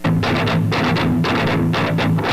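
8-string guitar played through a Mark L Custom amp, a Polish Marshall-style head with a percussive tone; tight, chugging distorted low riffs in rapid palm-muted bursts, loud and dense for a couple of seconds.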